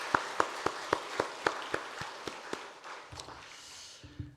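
A church congregation at a Sunday service claps in a brisk, fading rhythm of sharp bursts, tapering off into scattered claps and quiet room noise.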